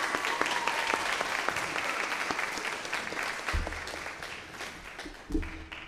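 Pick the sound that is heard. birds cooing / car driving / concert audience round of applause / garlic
concert audience round of applause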